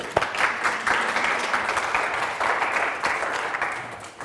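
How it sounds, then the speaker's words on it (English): An audience claps at an artist's talk at the Cornell Fine Arts Museum, a lively round of close, crisp handclaps forming a dense patter that holds steady throughout. "Let's give her a round of applause."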